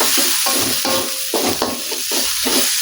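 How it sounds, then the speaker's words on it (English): Onions, tomatoes, cumin and spices sautéing for an eggplant curry, a loud steady sizzle with repeated stirring scrapes in a pan, close and continuous. "saute everything until it becomes very fragrant"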